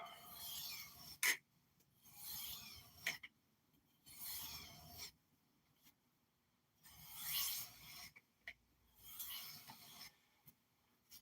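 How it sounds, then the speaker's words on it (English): A knife is sharpened on a 325 grit stone with a series of faint, rhythmic raspy strokes, each a short scraping swipe followed by a brief pause. "So this 325 grit's pretty aggressive, and I'm still profiling the bevels with it at this point"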